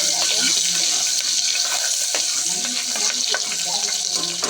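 Chillies with cardamom frying in a pan, giving a continuous dense sizzle and crackle up close, with faint scattered pops and stirring sounds underneath.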